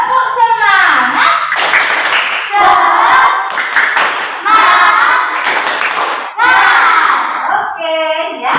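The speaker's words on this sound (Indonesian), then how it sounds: "Oke, tepuk semangat." Schoolchildren in a classroom perform a rhythmic spirit clap, loud bursts of clapping alternating with chanted children's voices in a patterned call-and-clap sequence, close and energetic.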